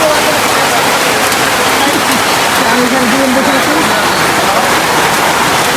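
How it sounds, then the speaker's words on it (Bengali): Heavy rain pours down during a road trip in Netrokona toward Birishiri, a dense, constant roar of drops on surfaces at high volume, with a voice faintly mixed in. "আর দেখুন বৃষ্টির অবস্থা প্রচুর বৃষ্টি"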